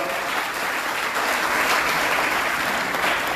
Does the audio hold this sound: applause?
yes